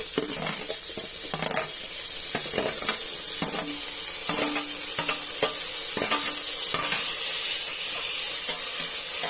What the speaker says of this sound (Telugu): ఇప్పుడు టమాటాలు వేస్తున్నారు